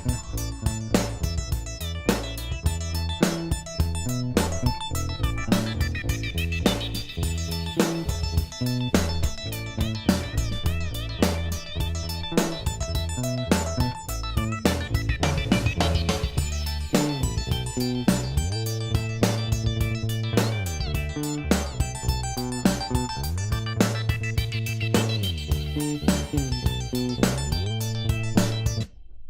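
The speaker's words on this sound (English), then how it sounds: "add some bleeps and bloops over it, because it needs that" Synth bleeps and bloops layered over a dense electronic music track with a steady beat and bass, loud and continuous throughout.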